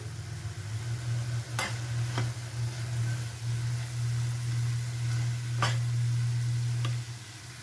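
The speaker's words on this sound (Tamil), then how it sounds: "இதில் தேங்காய் பூ சேர்த்துக்கலாம் காய் நல்லா கலந்துக்கலாங்க" A cabbage stir-fry with grated coconut being stirred in a pan gives a soft, steady sizzle, with a few sharp scrapes and clinks of the spoon against the metal.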